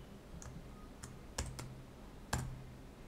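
Keystrokes on a computer keyboard during spreadsheet work: a handful of sparse, crisp clicks spread over three seconds, with a sharper press near the end like an enter key, close and fairly quiet against a faint background hum.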